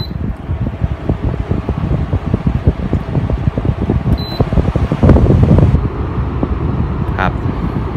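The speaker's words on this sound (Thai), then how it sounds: "ซึ่งจะบอกว่าเสียงลมที่ออกมาครับมันก็เหมือนกับเราเปิดลมจากพัดลมตัวใหญ่เท่านั้นเองนะครับก็ไม่ได้ดังวุ่นวายมากครับ" Mitsuta MEC95 evaporative air cooler fan blowing a steady broadband whoosh of air, close and fairly loud, with a brief rise midway and a couple of faint beeps, no talk.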